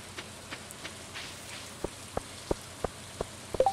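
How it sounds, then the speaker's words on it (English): Rain falls in the farming game Stardew Valley as a soft, faint patter, with scattered sharper drops tapping at irregular intervals that grow a little more frequent toward the end. "All of that rain and all that thunder."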